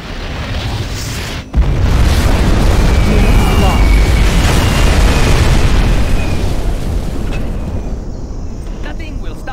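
A nuclear missile detonates in Command & Conquer Generals Zero Hour: a sudden loud boom followed by a long, dense roaring rumble that slowly fades.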